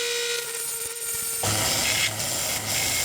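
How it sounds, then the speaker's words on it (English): A power sander whirs steadily on a metal ring, its tone shifting midway to a rougher, grinding rasp with rhythmic pulses as the abrasive bites the workpiece. "I'm gonna do that with a sander."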